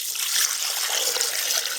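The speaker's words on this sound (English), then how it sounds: "I'm going to add water." Water pours steadily into a pot with a bright, splashing rush that holds constant for a couple of seconds.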